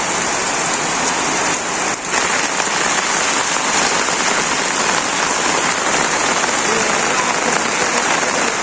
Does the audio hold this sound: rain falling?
yes